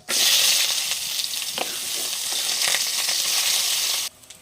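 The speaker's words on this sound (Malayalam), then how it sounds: "വെളിച്ചെണ്ണ ചൂടായിട്ടുണ്ട്. അപ്പോൾ സവാള ഇട്ട് കൊടുക്കാവേ." Onion frying in hot coconut oil with mustard seeds, a loud steady sizzle with occasional crackles and spatters, cutting off abruptly near the end.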